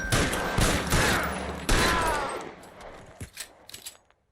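Gunshots ring out in the video game L.A. Noire as a loud rapid volley with echoing tails, dense at first and then thinning to a few scattered shots before stopping.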